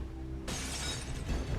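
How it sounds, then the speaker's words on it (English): A window smashes in the XCOM 2 video game: a sudden loud burst of breaking glass over a low ambient hum, with debris rattling briefly as it fades. "Heard a window smashing."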